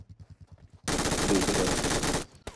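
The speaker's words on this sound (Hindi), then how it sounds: "यहाँ पे मशीन गन से भाई इसको ले जाती हूँ" Machine gun fire in PUBG Mobile: a few quiet rhythmic shots, then a loud continuous burst lasting over a second that cuts off abruptly, followed by a brief final shot.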